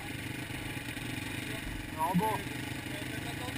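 A Yamaha Raptor 350 quad runs steadily through deep rutted mud, its engine droning close under a man's brief French remark, with a short rev rise midway.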